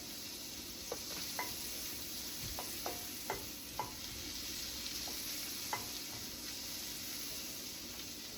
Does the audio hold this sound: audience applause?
no